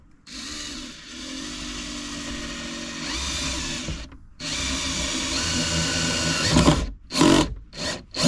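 A power drill drives into wooden lips that will hold a breadboard flush inside a Kia Sportage camping build, whirring steadily in long close runs, then stopping and starting in a few short bursts.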